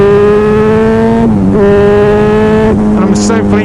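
A motorcycle engine running loud and close on a first ride, a steady droning note that dips, rises again and climbs in pitch as the throttle opens, with no voices over it.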